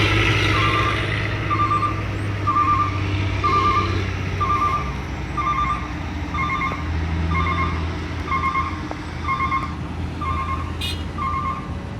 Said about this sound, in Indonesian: terlihat beberapa truk yang lagi memuat tanah timbunan